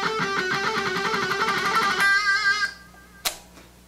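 Guitar picks a quick phrase of even 16th notes with alternating down and up strokes, close and clear, the last note ringing out before a short pick scrape.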